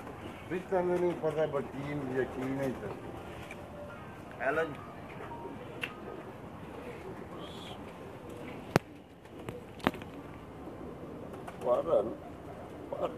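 Pigeons on a rooftop loft coo softly and intermittently while someone talks over them, with brief knocks and handling sounds in between.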